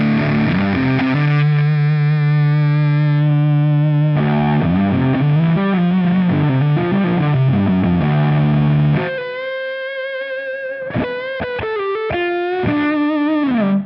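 Heavily distorted electric guitar through a distortion effect on its symmetric setting plays sustained, bending chords, then switches to choppier, thinner bursts of fuzzy notes near the end.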